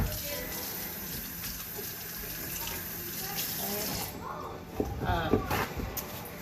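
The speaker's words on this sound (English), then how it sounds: "I gotta wash my hands here." Water running from a sink faucet during hand washing, a steady rushing stream that turns splashier near the end as hands move under it, with a voice speaking over part of it.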